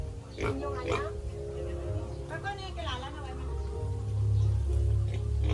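Farm pigs in Guimaras, Iloilo, Philippines, grunt and squeal in a few close bursts over a steady low rumble, with people talking nearby.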